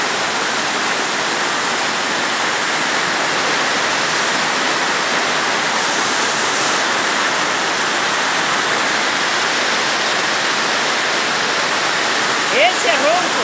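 Loud, steady roar of a heavy waterfall inside a narrow cave filled with falling and rushing water, continuous broadband noise throughout.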